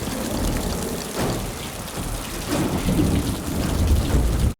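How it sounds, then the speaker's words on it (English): Heavy rain pours steadily through a thunderstorm in The Last of Us, with low rumbling thunder rolling underneath, loud and continuous throughout with no voices. "I love that the storm is also so symbolic of Ellie"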